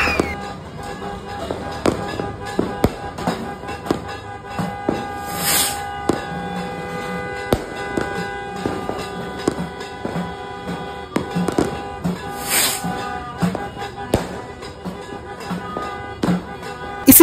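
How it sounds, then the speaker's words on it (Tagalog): Firecrackers and fireworks at a New Year celebration, a long string of rapid crackling bangs with scattered louder pops and whistling bursts, close and continuous. "12 AM na nga at sinindihan na namin ang mga paputok."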